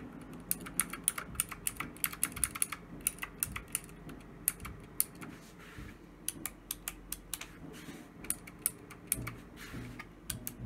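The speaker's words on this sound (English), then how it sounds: "So these are the blue switches, flare blue, sounds like that. And then Outemu switches," Rapid clicky typing on a Drevo Gramr 84-key mechanical keyboard with Outemu blue switches, crisp and close, with uneven bursts of keystrokes and brief pauses throughout.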